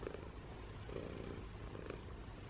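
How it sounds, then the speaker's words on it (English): A cat purrs softly, very close and quiet, a continuous low rumbling throb with a gentle rise and fall of breaths and no voices. "He's like a cute little kitty."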